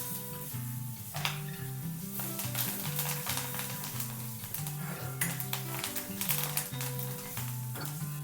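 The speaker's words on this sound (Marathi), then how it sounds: "आता फोडणी छान झाली आहे." Curry leaves sizzle and crackle in hot oil for a Maharashtrian tempering, a steady close fry with rapid popping throughout and no talking.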